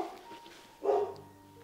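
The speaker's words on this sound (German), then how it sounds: "Der Hund bellt, warum auch immer." A small dog gives a single short, sharp bark partway through, moderately close, against a quiet indoor background.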